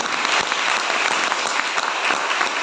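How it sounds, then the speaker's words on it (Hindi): Loud, dense applause from an audience honoring Vasundhara Gangwar at a Veer Bal Diwas school event, steady and sustained throughout without any speech. "वसुंधरा गंगवार के लिए मुझे लगता है एक बार बहुत जोरदार तालियों की आवश्यकता है"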